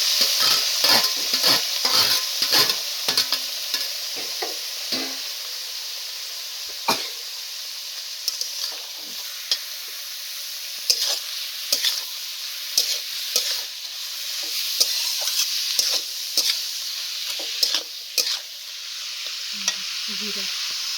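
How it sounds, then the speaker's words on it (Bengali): Green chilies and boiled cabbage fry in a pan with a continuous close sizzle, while a spatula scrapes and taps in an irregular rhythm throughout, no voices present. "দিয়ে সেগুলোকে কিছুক্ষণ নাড়াতে থাকলো।"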